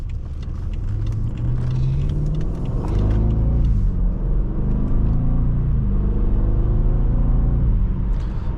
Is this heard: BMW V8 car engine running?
yes